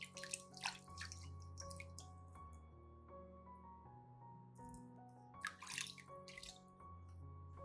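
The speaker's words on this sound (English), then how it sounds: "I will rinse the entire plant with clean water." Clean water is rinsed over an orchid plant and its roots, giving close, quiet splashes and drips in irregular bursts over soft background music.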